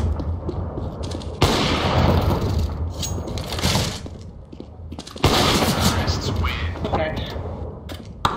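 Decoy grenade in CS:GO popping out fake gunfire, dense bursts of shots and booms in two long stretches, loud and close, with voices talking over the game audio.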